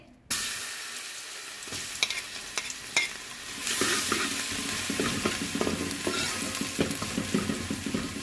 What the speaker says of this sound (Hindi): अब इसमें लहसुन डालेंगे